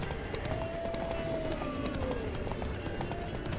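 Horse galloping in The Witcher 3, with steady, rapid hoofbeats clip-clopping close by over a continuous bed of ambient game sound.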